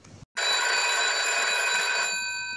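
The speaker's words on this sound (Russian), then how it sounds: "кто там звонит? Почему у нас вообще телефон из Советского Союза, блин?" An old Soviet telephone bell rings loud and close in one sustained ring of about two seconds, bright and metallic, then stops, with no talking.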